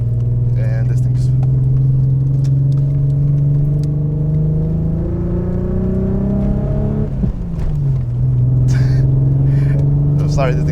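A Nissan GT-R engine hums steadily and loud from inside the car during a slow turnaround, its low drone dipping and rising in pitch as the car shifts, with a voice talking over it.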